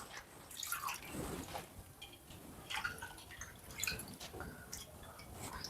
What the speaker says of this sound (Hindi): उसका पानी निथर जाने देंगे थोड़ी देर के लिए।